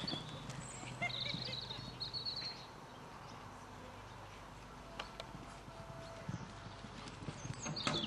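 Distant horse hooves clip-clop over soft arena ground in a quick galloping rhythm during a show jumping class, faint under a low outdoor background.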